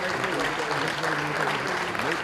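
Audience applause in an auditorium at an album launch and award ceremony, continuous clapping with a voice or music carrying over it throughout.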